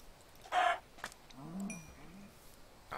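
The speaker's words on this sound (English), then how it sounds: "Let's kill more chickens." A chicken clucks in a few short bursts amid game sound effects, with a brief sharp noise at the start and quiet pauses between.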